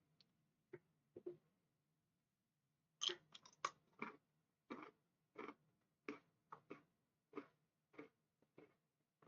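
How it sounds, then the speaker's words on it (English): Someone munches a crunchy snack close to a microphone, a series of sharp crisp crunches in uneven rhythm with brief pauses, faint overall over a low steady hum, with no talking. "Crunching is coming through the mic pretty good though."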